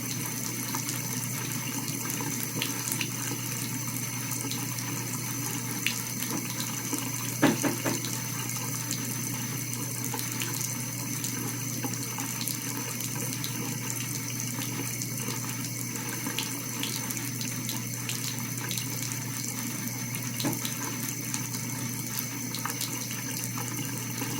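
Tap water runs steadily into a sink to wet a denture, a continuous even gush with a faint bump partway through and no speech.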